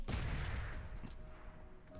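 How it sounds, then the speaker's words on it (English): Bombs exploding in the block-building game CEFORE, a heavy rumbling boom at the start that decays into scattered debris crackles over two seconds. "It was such a big explosion, and the blocks just kind of hit him really bad."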